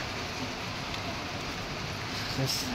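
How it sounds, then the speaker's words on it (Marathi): Rain falls steadily outdoors, a constant dense hiss with no gaps, fairly faint, with a brief clatter near the end. "आता अचानक परत पाऊस सुरू झाला."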